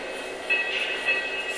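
A toy train engine runs steadily along its track, giving a continuous mechanical whirring rumble with a faint high whine, close by, with no talk over it.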